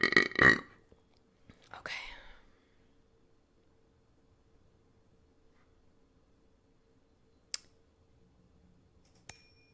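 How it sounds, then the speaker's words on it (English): A person burping loudly twice near the start, followed by a long stretch of near silence with a couple of faint clicks. "I'm gonna be burping a lot."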